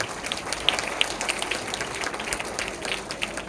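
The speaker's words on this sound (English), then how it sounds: "So I request every one of you to give a big round of applause to Sister Savita." Applause from an audience at a Teacher's Day celebration, a steady dense patter of many hands clapping together without pause, moderately loud and continuous throughout.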